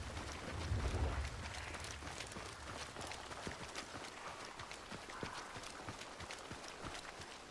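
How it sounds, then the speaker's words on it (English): Footsteps in the video game Hunt: Showdown patter in quick irregular succession at moderate loudness, with a low thump near the start over steady background ambience, and nobody speaking. "I hear so many footsteps."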